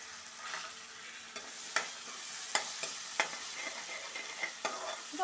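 Crushed ginger, garlic and green chilli fry in hot oil for prawn biryani, making a steady close sizzle broken by sharp clicks and scrapes of a spoon stirring in the pan, with no voices.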